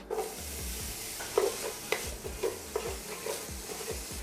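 Onions frying in oil in a pan for a loaded Latin-style potato soup, a steady sizzle broken by repeated scraping stir strokes about every half second, close and moderately loud with no talking.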